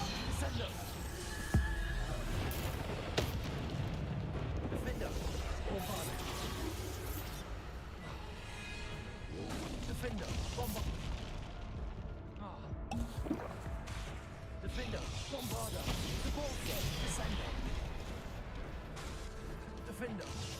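Spell casting and explosions in Hogwarts Legacy: a steady stream of magical blasts, booms and impact bursts in quick succession under dense game ambience, while a voice keeps talking over the action.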